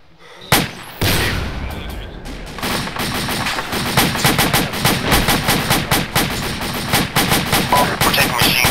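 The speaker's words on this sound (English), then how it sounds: "We're taking machine gun fire from bearing 284." Loud, close machine gun fire in the military game Arma, rapid rhythmic bursts that grow denser and continue almost nonstop, with a few separate single shots before it.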